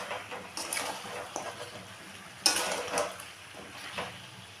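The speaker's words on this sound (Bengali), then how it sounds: "এখন মশলাটাকে ভালো করে মিশিয়ে নেব।" Spices for Peshawari chicken are stirred in a metal pot, making intermittent scraping and clinking of a spoon against the pan, with one sharper knock midway, all at close range.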